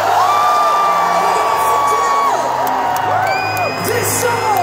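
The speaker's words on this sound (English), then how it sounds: "Everybody scream." A packed arena crowd at a concert at The O2 in London screams and cheers, a loud sustained wall of voices with rising whoops and whistles throughout.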